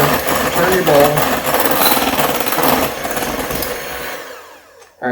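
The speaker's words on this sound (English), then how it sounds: "I'm going to flip this up to high. I'm going to really get this working. Make a lot of noise with the mixer." An electric mixer runs on high speed, beating batter in a bowl with a loud, continuous whirring grind. The sound holds steady for several seconds, then cuts out abruptly near the end.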